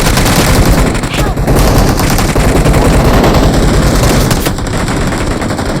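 Video game gunfire roars loud and close: rapid automatic bursts and overlapping shots pour out almost without pause for several seconds.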